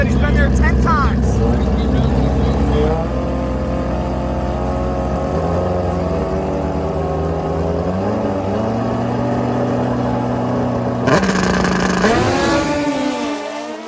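A Hayabusa drag-racing motorcycle at a drag strip, its loud engine revving and rising in pitch as it launches, with a second burst of revving near the end under announcer commentary.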